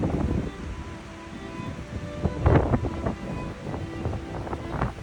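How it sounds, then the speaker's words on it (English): Gusty wind buffets the microphone outdoors near a lake in Glacier National Park, rumbling low and rising into stronger blasts midway and near the end, with no talking. "It's pretty windy. Would like to have less wind."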